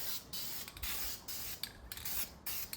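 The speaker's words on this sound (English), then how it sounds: "that it's not too cold where you're spraying, and then you're just gonna give it a really light, super light coat" An aerosol spray paint can lays a super light coat onto removed Nissan Frontier engine parts such as the plenum and valve covers, giving several short hissing bursts with brief pauses between, close and fairly quiet, with no talk.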